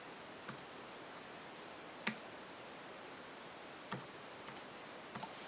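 Keys clack on an Apple Wireless keyboard while a pairing code is typed, producing a few sparse, isolated clicks over quiet background hiss.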